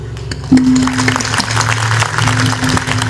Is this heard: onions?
no